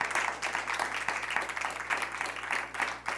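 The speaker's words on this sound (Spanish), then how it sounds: "alguien dele un aplauso" A church congregation applauds during a sermon, a steady patter of many hands clapping at moderate distance for about three seconds, with no speech over it.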